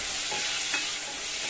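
Chopped tomatoes are stirred into onions frying in a pan for a beef and monggo dish, giving a steady close sizzle with a scraping stir partway through.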